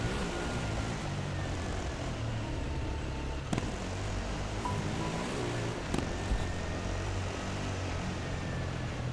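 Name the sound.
helicopter flying overhead in Dakar Desert Rally video game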